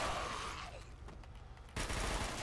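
Automatic turret fire in the video game Fallout 4, a dense rattling burst of rapid shots that thins out midway, then returns loud and sudden near the end.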